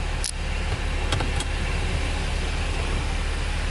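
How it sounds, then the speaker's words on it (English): Audi Q7 45 TDI panoramic roof closing, with a steady hum of the motor, a quick click at the start and a couple of faint ticks as it moves. "So that's the panoramic roof for you guys. Then I close it out."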